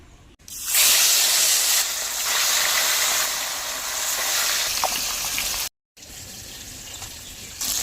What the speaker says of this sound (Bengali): এদিকে মাছগুলো ভাজতে থাকবো